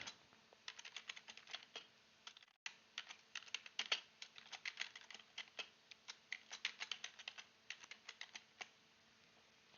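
Continuous typing on a computer keyboard while a title is entered into an Excel dashboard, with quick irregular close-up key clicks, a brief pause near the start, and no talking.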